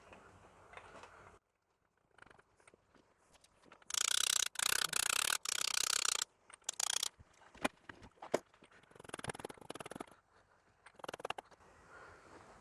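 A ratchet fitted with a 32mm socket pressing a cam seal into place during a Ford Festiva timing belt job, giving bursts of rapid clicking and mechanical rattling separated by quiet gaps, close and without talk.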